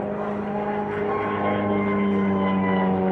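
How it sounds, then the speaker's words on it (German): A biplane at an airshow passes overhead with a steady engine drone and a sustained whistle from its bracing wires, loud and continuous throughout. "Was man so Pfeifen hört in den geraden und senkrechten Linien, das entsteht durch das Flugzeug selbst."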